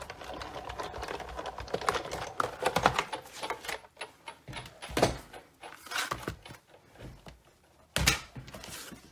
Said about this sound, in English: I'm going to bring in the Big Shot to do the embossing with the subtle embossing folder.